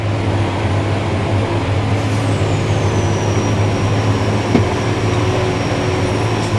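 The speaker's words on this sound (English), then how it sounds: "Jake brake." A tractor's engine drones loud and steady under jake braking while climbing hills and side hills, a constant low rumble with a faint whine and no voices.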